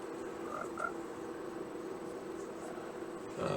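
Minecraft frogs croak in a few short, soft calls over a constant hiss of ambient noise, with a slightly louder rustle at the very end.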